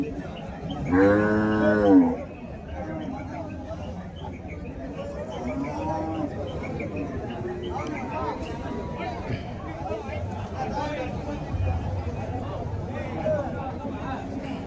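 Large old native bulls and heifers at a busy weekly cattle market in Uthangarai, with one loud, close moo near the start followed by fainter, scattered lowing amid a crowd murmur and talk.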